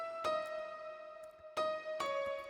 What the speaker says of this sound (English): What you can also see is unicorda cotton, which I often layer at the top end.